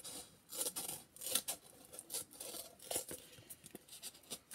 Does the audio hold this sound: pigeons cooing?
no